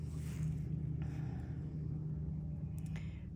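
Cars passing outside make a low, steady rumble throughout, fairly faint and distant, with slight swells as vehicles go by.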